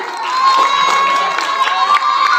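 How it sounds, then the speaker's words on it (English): A school audience at a National Education and Children's Day celebration breaks into cheering and applause, with children's shouts rising over a loud, steady crowd roar. "Everyone give a big round of applause."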